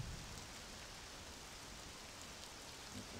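Steady rainfall in the video game Mafia, a soft, even hiss of falling drops, faint and continuous without voices.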